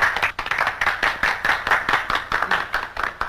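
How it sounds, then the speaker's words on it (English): Audience applause in a meeting hall in the Arnie episode "Trouble in the Air": dense, steady clapping from a group, sustained and fairly loud for a few seconds with no talking over it. "A round of applause for our first line of defense."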